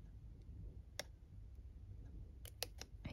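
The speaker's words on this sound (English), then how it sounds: "I just took out my very, very small scissors. These are eyelash scissors or tweezer scissors." Tiny eyelash scissors snipping paper, heard as a few faint, sharp clicks: a single snip followed by a quick cluster of three or four near the end, over a quiet background hiss.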